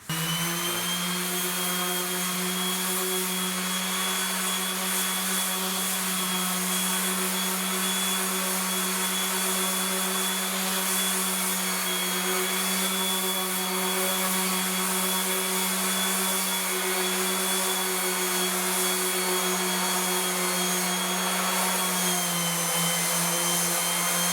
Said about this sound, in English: the secret is to actually run the sander up in line with the grain